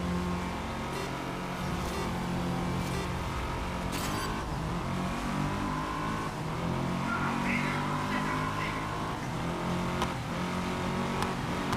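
Race car engines drone and whine continuously in a wet-weather race in the GRID Legends video game, with tire spray and occasional bumps, while someone talks over the game sound.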